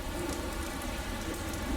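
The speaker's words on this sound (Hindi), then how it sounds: "यहां कई दिनों से बारिश हो रही है" Heavy rain pours steadily onto the ground at a helicopter landing ground in the Siachen region, a dense continuous hiss with no talk.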